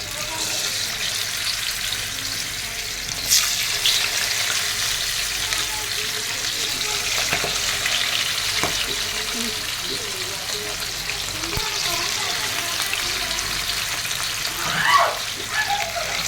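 Rohu fish coated in turmeric frying in oil for fish biryani, a loud, steady hissing sizzle lasting throughout with occasional faint clatter, close by and with no talk.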